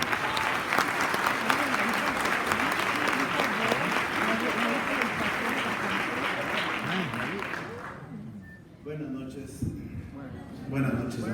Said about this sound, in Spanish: Recibimos un aplauso.